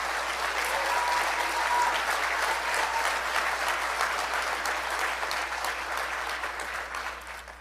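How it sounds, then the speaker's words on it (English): Audience applause for Lisa Raitt at a Conservative Party rally, a sustained, even round of clapping from a large crowd that slowly fades toward the end. "Please give her a big round of applause."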